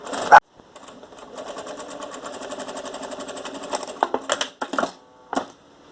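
A sewing machine stitches fabric in a steady, fast mechanical whir that runs for several seconds, then breaks into short stop-start bursts with a few brief clicks between them.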